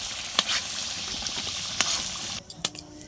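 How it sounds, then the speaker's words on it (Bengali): Potatoes frying in a pan for an egg curry, giving a steady close sizzle with a few sharp clicks and pops scattered through; no one speaks. "আলুগুলো ভেজে নেব।"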